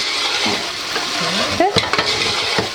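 A spoon stirs cooking tomato in a saucepan and scrapes the bottom of the pan while the tomato sizzles, with a few sharp scraping strokes and utensil clinks close up, for a Senegalese Wolof dish.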